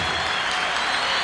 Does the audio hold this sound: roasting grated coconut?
no